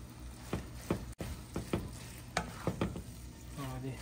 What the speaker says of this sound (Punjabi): ਆਪਾਂ ਕਰਾਂਗੇ ਚੰਗੀ ਤਰ੍ਹਾਂ ਮਿਕਸ।